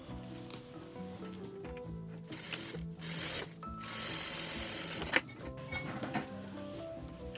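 A sewing machine stitches a straight seam in patterned fabric for a four-pocket box pouch, a steady mechanical hum broken by short pauses and a sharp click near the end, close and fairly quiet.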